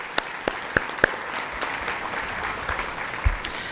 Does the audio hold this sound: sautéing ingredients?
no